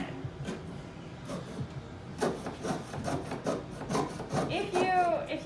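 A hand saw rasps back and forth through metal with cutting lubricant, irregular close scraping strokes that quicken toward the end, with no talk.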